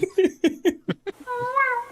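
Someone speaks in short, clipped bursts, then imitates a cat with a drawn-out, wavering meow. The meow is close and clear.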